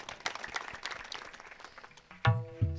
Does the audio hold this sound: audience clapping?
yes